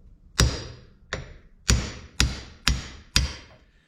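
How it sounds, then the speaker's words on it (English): Hammer striking a large socket to push a part into place, six sharp metallic knocks at roughly half-second intervals, close and ringing briefly after each blow, with no voices. "Just give it a gentle whack here."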